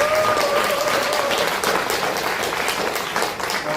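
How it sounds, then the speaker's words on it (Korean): Audience applause for a panel discussant at a Korean social welfare forum: steady, dense clapping from a sizeable crowd that fills the whole span at an even level. "이런 눈물 나는 이런 기분을 드리는 우리 토론자님께 다시 한번 큰 박수 한번 부탁드립니다"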